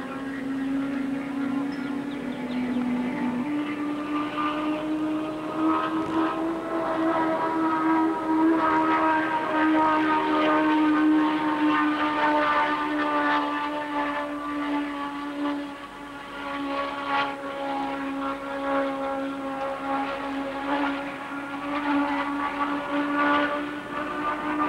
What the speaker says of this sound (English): Yvonne Duhamel takes the Z1 around the 2-mile oval wide open.